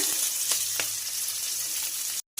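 Peanuts and peas hit hot refined oil in a pan, giving a bright, close, steady sizzle with a few faint stirring clicks, then a brief cut to silence near the end.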